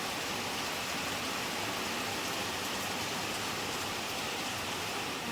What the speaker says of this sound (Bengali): বিশাল জোরে বৃষ্টি হচ্ছে, বিশাল জোরে।